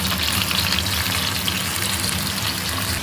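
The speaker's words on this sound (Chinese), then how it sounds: "把头尾呢都给它煎一煎，尽量给它煎煎透。" Food sizzles steadily in a hot oil-filled pan as it is pan-fried and turned, a dense, even crackle that stays loud throughout with no talking.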